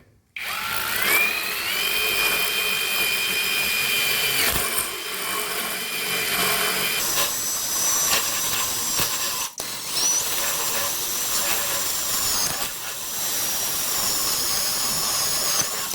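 Ozito 18V brushless impact driver running with an oversized socket, a continuous loud whirring and hammering buzz with rising pitch at the start and a short break near the middle, with no talk.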